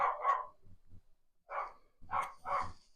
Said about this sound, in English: That's Sue telling the dog to be quiet because she knows I'm doing a video.